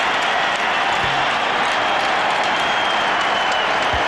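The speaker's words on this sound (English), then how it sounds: "Doug Collins brings Michael Jordan out of the game to a standing ovation" A sellout Staples Center crowd gives Michael Jordan a standing ovation during a Wizards at Lakers basketball game, a loud, steady wash of applause and cheering filling the arena throughout.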